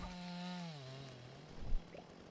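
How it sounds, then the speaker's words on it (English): A chainsaw cuts a turkey in the game Dinkum, its engine drone gliding down in pitch, followed by a short thudding burst near the end, fairly quiet, with no talking. "Chainsaw one turkey, then start."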